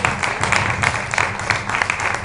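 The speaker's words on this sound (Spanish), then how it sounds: "Aplausos para él." Audience applause for a band at a live concert, a steady wash of many hands clapping, moderately loud and continuous with no talk over it.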